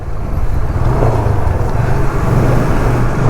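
An Apache RTR 160 2V motorcycle being ridden, a loud steady engine drone with low rumble and rushing road and wind noise throughout.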